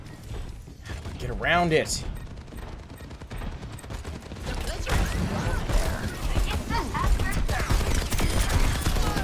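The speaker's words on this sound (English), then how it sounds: "Rocket barrage!" An Overwatch 2 rocket barrage ability fires as a rapid, clattering stream of launches and blasts that builds in the second half, with a short speech phrase and game effects earlier.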